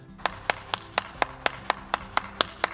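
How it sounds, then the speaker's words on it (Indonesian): A steady run of about a dozen evenly spaced hand claps, crisp and close, from an online children's Sunday school service, with no talking. "Tepuk tangan yang meriah buat Tuhan kita"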